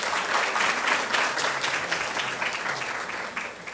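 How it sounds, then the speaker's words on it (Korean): An audience at a Korean university presentation competition award ceremony claps steadily. The dense applause is loud and sustained, then tapers slightly at the end. "박수 부탁드리겠습니다."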